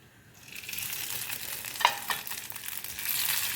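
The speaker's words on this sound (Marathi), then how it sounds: "त्याच्यामध्ये आपण शॅलो फ्राय करून घेऊया" Thick beet-leaf vadis shallow frying in hot oil, a close, steady sizzle that swells after a quiet start and keeps crackling with small pops throughout.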